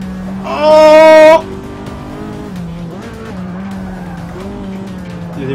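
Racing cars in Forza Motorsport 6 with a loud, brief tire squeal near the start, then a steady engine drone carrying on underneath.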